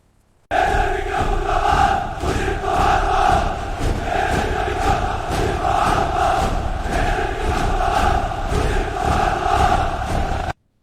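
A film's rioting crowd roars continuously, a dense mass of many shouting voices with chanting swells that rise and fall, loud and sustained from start to finish with no clear individual speech.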